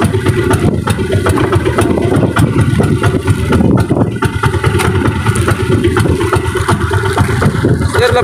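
A loud fishing boat engine runs steadily throughout, a constant droning rumble with mechanical rattle and no pauses.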